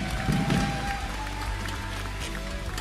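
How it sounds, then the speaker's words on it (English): Steady audience applause and crowd noise fill the room at an esports match broadcast of a Mobile Legends game. "give them a round of applause."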